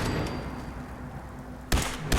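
Turret gunfire in Fallout 4, heard as two short, sharp bursts near the end after a quiet stretch of game ambience; loud and close.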